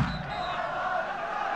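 Fans in a Moroccan football stadium at a league match between Kenitra and Hassania Al Hoceima make a distant, steady roar that hangs evenly throughout.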